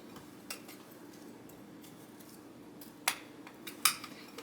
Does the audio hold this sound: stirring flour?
yes